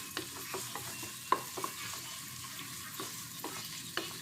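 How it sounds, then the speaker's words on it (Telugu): Bay leaf, cloves and cinnamon sauté in a pan for rava biryani, giving a steady soft sizzle with scattered light stirring scrapes and clinks. "బిర్యానీ ఆకు, లవంగాలు, దాల్చిన చెక్క కూడా వేసుకొని కొంచెం మగ్గనివ్వాలండి"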